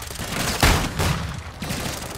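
Loud, dense gunfire from the video game Call of Duty: Modern Warfare II, with close overlapping shots and booms packed into a couple of seconds.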